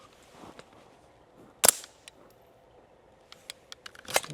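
An AR rifle fitted with an AAC Pindrop suppressor fires alternating subsonic and supersonic rounds at a slow pace: two sharp, suppressed reports stand out, with scattered lighter clicks and clatter between them, and no talking.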